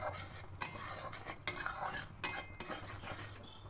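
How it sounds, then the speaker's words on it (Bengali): Hand whisk working through boiled lentils for a sour green-mango dal, giving soft clinking, scraping strokes against the pot in an uneven rhythm, close and fairly quiet, with no talk. "এবার হ্যান্ড উইস্ক করে খুব ভালো করে ডালটাকে ঘেটে নেব"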